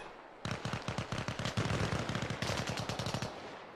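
Sustained automatic gunfire in the military shooter Arma Reforger, a steady stream of loud, closely spaced shots lasting about three seconds, with no talking over it.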